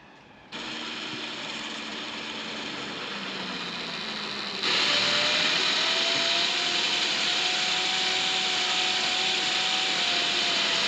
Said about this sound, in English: just take this drill slow